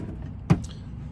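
A drawer sliding open inside a 2015 Forest River FR3 RV, a single brief close thump against a faint room hum, with no talking over it.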